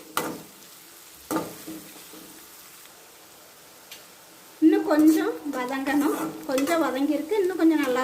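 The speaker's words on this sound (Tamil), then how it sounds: "இந்த பல்லாரி வந்து கொஞ்சம் நல்லா வதங்கணும் லேசாக வதங்கக்கூடாது கொஞ்சம் நல்லா வதக்கிடணும்" Sliced big onions sautéing in oil in a pan over medium heat for egg thokku, a soft sizzle broken by a few isolated clinks, then a louder steady frying crackle with stirring through the second half.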